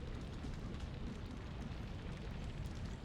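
A fire burns in the video game Shadows of Destiny, a low, steady rumbling roar with faint crackle, continuous and quiet throughout.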